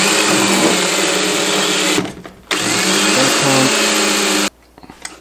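A power drill boring into a wooden coffee cabinet, a loud, close, steady whine that stops briefly, starts again and then cuts off, leaving light handling noise.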